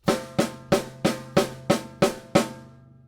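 A drum kit plays straight eighth notes, seven evenly spaced, ringing hits in a steady pulse, close and alone, with the last one fading out.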